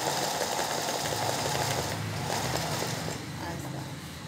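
A home Singer sewing machine stitching straight-seam embroidery of a small leaf, giving a continuous mechanical hum and rapid needle rattle close by, with a voice talking over it throughout.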